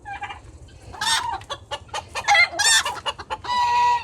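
Cochin chickens, a giant breed, cluck and squawk in several bursts close by, with a rooster crowing among them over a steady low hum.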